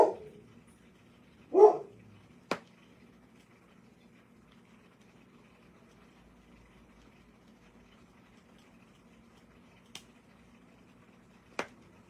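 A dog barks twice in a quiet house, two short, moderately loud yelps close together near the start, followed by a few faint sharp clicks and long stretches of near silence.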